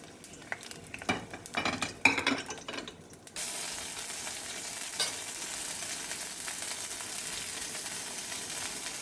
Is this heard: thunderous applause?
no